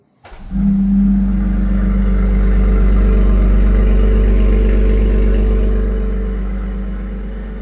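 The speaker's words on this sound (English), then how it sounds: "Let's do a remote engine start, cold start." A 2026 BMW X3 M50 fires up on a remote cold start, a sharp crank followed by a loud, steady high idle that holds strongly, then begins to settle slightly lower near the end, with no voices.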